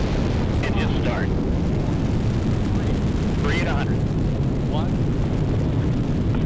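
The Space Shuttle Discovery launches on mission STS-120 with a continuous, loud, roaring rumble that fills the whole clip. Faint radio voices are audible beneath the roar.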